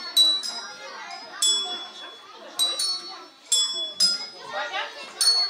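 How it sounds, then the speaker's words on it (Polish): Children play melodies on small colourful bells, striking bright ringing tones in repeated clusters while kids chatter and talk around them. "Ich zadaniem było między innymi wygrywanie melodii na kolorowych dzwoneczkach."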